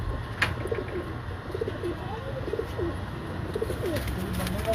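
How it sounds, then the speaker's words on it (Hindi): Durre pigeons, a cross of Ferozpuri and Kasuri breeds, coo softly in a busy outdoor setting, with low murmuring coos repeating over steady background noise and a few faint chirps. "ये दुर्रे कबूतर जो कि फिरोजपुरी और कसूरी कबूतरों के क्रॉस से बने हैं।"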